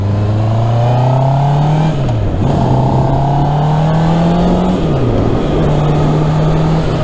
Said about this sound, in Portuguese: Em termos de aceleração, a moto anda muito bem.